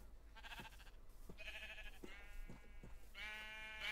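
Sheep in the video game Minecraft bleat several times in short, wavering calls, some overlapping, against a quiet background with faint soft thumps.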